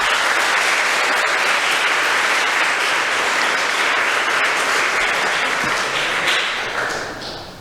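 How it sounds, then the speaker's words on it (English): Steady crowd applause at a school fall athletic assembly, dense clapping sustained for several seconds and then fading out near the end. "Maybe we could hold our applause till the end."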